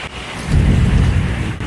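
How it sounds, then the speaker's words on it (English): Night thunderstorm in the Pyrenees with heavy rain, hail and wind: a loud, dense roar of pouring rain and gusts that swells after a brief lull and holds steady and close throughout. "A lot of rain, a lot of wind."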